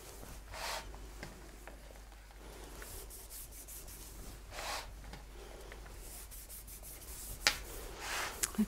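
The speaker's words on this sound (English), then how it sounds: "I'm just turning the cake and rubbing my fingers along that bottom there" Fingertips rub along the bottom edge of a sugarpaste-covered cake as it is turned, giving a quiet, soft, continuous rubbing with faint brushing swells and a few small clicks near the end.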